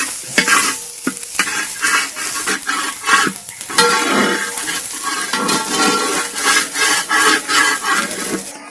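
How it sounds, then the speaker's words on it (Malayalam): Grated coconut stirred in a pan for Kerala koottukari outdoors, with a spoon scraping and clinking steadily against the pan over a continuous close sizzle of frying. "അതുവരെ ഇങ്ങനെ ഇളക്കിക്കൊണ്ടിരിക്കണം"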